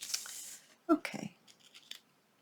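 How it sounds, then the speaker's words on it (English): Dull scissors snip paper for a handmade junk-journal envelope, with a short burst of crisp cuts in the middle. Quiet handling noises follow, and no voices are heard. "These scissors are not sharp at all."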